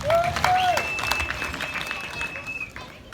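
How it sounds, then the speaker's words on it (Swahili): Scattered clapping from a crowd at an open-air gospel crusade in Arusha, fairly faint and mixed with a high whistle-like tone and background voices. "Mpigie Yesu wetu makofi."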